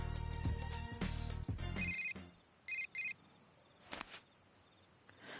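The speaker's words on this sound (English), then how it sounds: "Received a text message from Yukiko." A text message notification chimes in the video game Persona 4 Golden, a few bright electronic tones and short repeated blips over quiet background music, with no talking.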